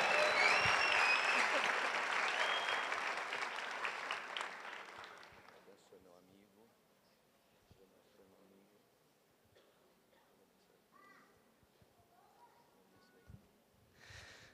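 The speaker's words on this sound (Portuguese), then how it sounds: "Aplaude aí, gente." An audience applauds loudly at a live hangout gathering, with dense clapping for about five seconds that fades into scattered claps, breaths and low voices.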